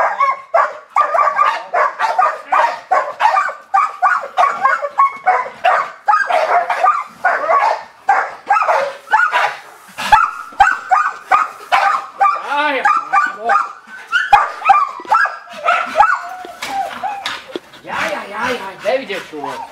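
Dog barking and yipping repeatedly during bite sport protection training, with excited handlers talking and cheering throughout over the barks.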